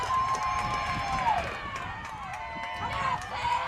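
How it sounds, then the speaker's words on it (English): Crowd at a softball game cheering after the winning run, a sustained roar of shouts and whistles with a commentator talking over it. "The crowd here is hyped, and so are her teammates in the dugout"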